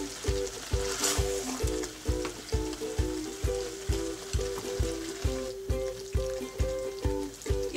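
Chicken jalfrezi fries in a pan over medium heat with a steady, loud sizzle. A spatula knocks against the pan in a quick, regular stirring rhythm, with no talking.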